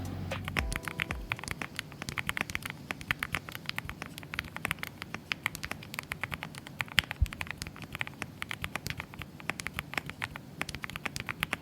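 Typing on a TACWORKS K1 mechanical keyboard fitted with heavily lubed switches: rapid, steady, muted keystrokes heard up close, one clack after another with no pauses.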